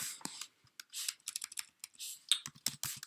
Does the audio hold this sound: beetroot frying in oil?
no